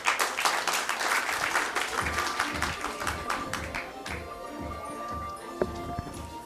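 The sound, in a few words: audience hand clap welcoming a speaker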